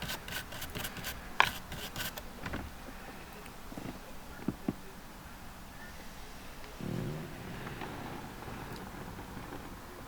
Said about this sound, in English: I'm taking a brass wire brush, nothing too aggressive, and just trying to get that surface rust off